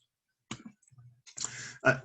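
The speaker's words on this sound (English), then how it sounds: "I can press the delete button on my keyboard." A single key press on a computer keyboard gives a sharp click, followed by a few more soft taps and clicks. It sounds close and dry against a quiet room.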